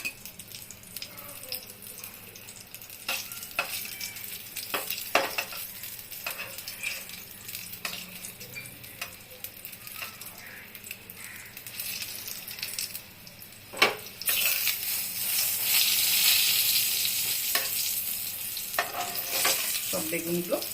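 Eggplant pieces frying in a pan, with a steady close sizzle and occasional clattering knocks of a utensil against the pan. Near the end the sizzle swells louder and hissier.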